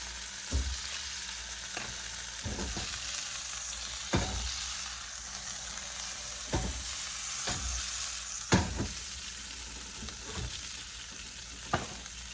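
Butter sizzling in a hot pan holding fish and gravy, a continuous soft frying hiss punctuated by periodic sharp knocks and scrapes of a utensil, with no talking.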